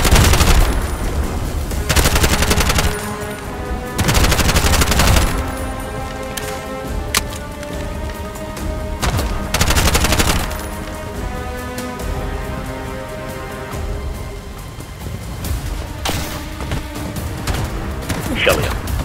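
Dense gunfire barrage in the Bright Memory Infinite video game, loud rapid bursts crashing in waves over a thick backdrop of game music and effects, with brief lulls between the heaviest volleys.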